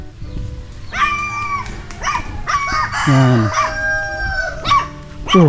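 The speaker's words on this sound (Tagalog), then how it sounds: "Dito na yung mga aso nila oh" Several dogs bark and yelp in short bursts nearby, with a rooster crowing among them and a brief spoken word.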